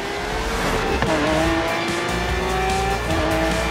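Lamborghini Centenario and Ferrari LaFerrari supercars race head to head in the Forza Horizon 3 racing game at Byron Bay, with a loud, continuous high-revving engine roar, rising gear-change whines and tire squeal throughout.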